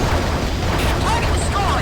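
A target blows up underwater in the AquaNox submarine combat game, a dense, continuous rumbling blast with crackling debris that fills the whole stretch at steady loudness.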